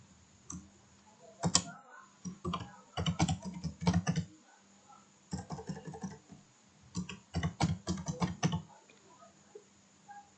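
Computer keyboard typing in bursts of quick clicks separated by short pauses, close and clear, with a steady low hum underneath and no talking, during data entry into Maple math software.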